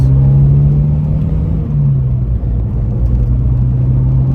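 A Ford Fiesta RS1800 with a 1.8 litre engine pulls along with a loud, steady rumbling drone and a held engine tone that dips slightly midway, close and continuous with no talking.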